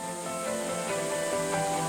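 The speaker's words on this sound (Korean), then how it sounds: "장쾌하게 쏟아지는 물줄기, 높이 30m 암벽에서 쏟아지는 물줄기가" Water from a waterfall pours down a 30-metre rock cliff, making a steady, dense rushing roar that continues without a break.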